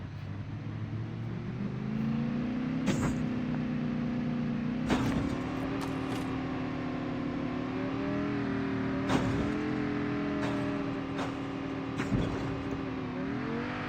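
Vehicle engine from the Call of Duty Mobile game, a sustained loud drone with shifting pitch as it drives and revs, punctuated by a few sharp clicks and impacts.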